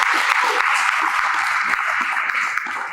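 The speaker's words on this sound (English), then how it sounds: "Clap it up for that." Audience applause fills the room, a dense, steady wash of many hands clapping at close range with no break in the sound.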